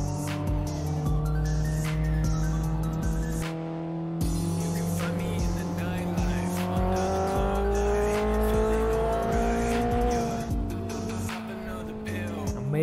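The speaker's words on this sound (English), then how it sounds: "Amazing engine sound" A modified car with a big wing and center-exit exhaust in Assetto Corsa on the Shutoko Expressway, its engine revving and climbing through gears with rising pitch, tire squeal and shift breaks, loud and close with no talk.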